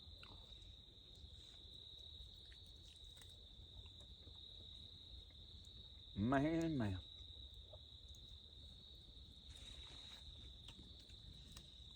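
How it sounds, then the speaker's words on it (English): Crickets chirp in a steady, high continuous trill outdoors by a campfire at night, with a brief spoken word breaking in midway over the insect drone. "I'm going to listen to the crickets chirp and the birds holler."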